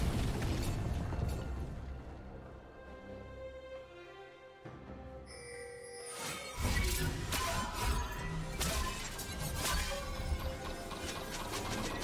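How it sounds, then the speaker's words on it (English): A League of Legends turret collapses with a loud crashing, rumbling burst and mechanical clatter after a quieter stretch, set within continuous game effects and music. "Red team's turret has been destroyed"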